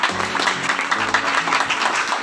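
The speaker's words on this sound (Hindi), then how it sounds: "Please give a big hand for her, तालियां उनके लिए।" Applause from an audience at a business networking seminar in Tohana, a dense wash of clapping hands filling the room steadily for a couple of seconds, with faint voices mixed in.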